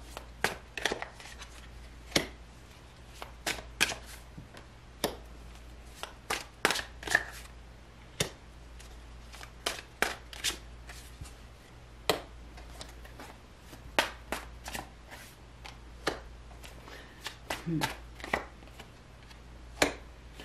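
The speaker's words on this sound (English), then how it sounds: "We'll lay out the cards on the table, and then we're going to go from there." Tarot cards shuffled and laid out on a table for a reading, heard as a long series of sharp, irregular taps and flicks, close by, over a faint steady hum.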